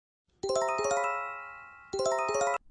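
A loud synthesized chime sequence of rising tinkling tones from a phone earthquake early warning alarm in Japan plays, then repeats after a brief pause, sharp and close.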